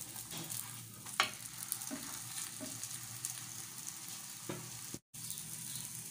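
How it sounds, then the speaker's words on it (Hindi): Egg paratha sizzling on a pan over moderate heat, a steady soft frying hiss with a few faint clicks and a brief gap near the end; no voices. "अब ये देख रहे हैं आप लोग, पराठे की सूरत में सिकना शुरू हो गया।"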